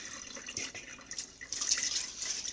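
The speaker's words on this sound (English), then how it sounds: "I had to wash this couple of times till the water is clear." Idli rice is being washed in water, with faint, soft swishing and trickling sounds that continue steadily at a low, close level.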